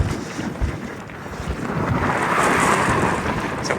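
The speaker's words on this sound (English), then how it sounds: "And the wind is picking up." Steady wind gusting across an open coastal road in northern Scotland, a westerly blowing side-on, with broadband rumbling buffeting that builds louder through the second half, no talking.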